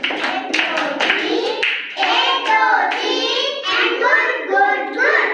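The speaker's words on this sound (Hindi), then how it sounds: "आप जरा तालियां बजा दो इन सबके लिए, जोर से बजाएंगे ताली आप।" Primary schoolchildren at a government school clap together in a classroom, fast and fairly loud, in uneven bursts, with children's voices mixed in.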